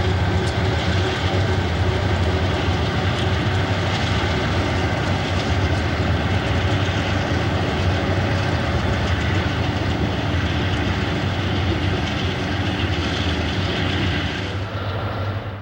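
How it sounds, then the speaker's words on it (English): Freight train in the Roseville area hauled by a mix of UP-8 and Dash 9 locomotives, a loud continuous diesel rumble and rail roar that holds steady throughout and eases slightly at the very end. "The TOFC meets an eastbound with a mix of UP-8 and Dash 9 power."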